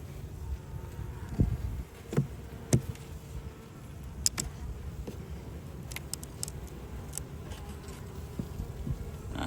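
Honey bees hum and buzz softly around an open hive during an inspection, with a faint continuous drone broken by occasional louder fly-bys.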